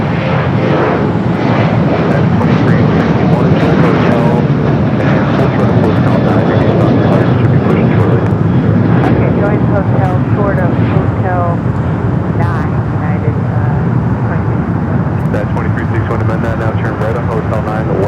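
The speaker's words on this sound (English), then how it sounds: "737-800 on Foxtrot will be number 2 for takeoff." A Boeing 737-800 jet airliner roars steadily at LAX, a loud, constant engine rumble filling the whole stretch, heard close with some wind buffeting on the microphone.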